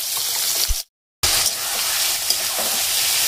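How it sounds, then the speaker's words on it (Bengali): Chopped onions sizzle steadily in hot oil for fish cutlets, a continuous close frying hiss with a soft stir or two, broken by a brief silent gap before the sizzle resumes. "তেল দেওয়ার পরে আমি যে পেঁয়াজগুলো কেটে রেখেছি ওগুলোকে দেবো।"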